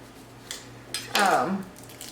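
A knife slices through an old, dried-up lime on a hard surface, giving a few soft taps and then one louder scraping crunch near the mic, with faint speech nearby.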